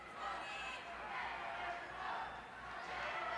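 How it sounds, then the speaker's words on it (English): Capacity crowd at a 1981 WWF tag-team wrestling match roars with a steady, distant wash of cheering and shouting, heard faintly throughout under a commentator's voice. "Another capacity crowd here joining us this week."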